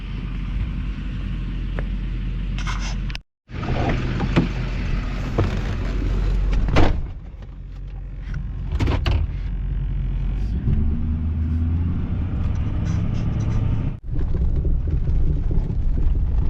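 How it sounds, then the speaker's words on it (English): A dump truck driving, heard as a loud, steady low rumble of engine and road noise with wind buffeting, briefly cut off twice, no voices. "We'll go down and get the dump truck"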